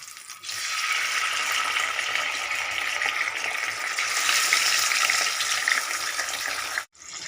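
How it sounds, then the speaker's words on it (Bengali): Katla fish fry in hot mustard oil in a kadai over a medium flame, giving a bright, steady sizzle that runs loud and unbroken before cutting off near the end. "মিডিয়াম ফ্লেমে রেখে মাছগুলো ভেজে নেব।"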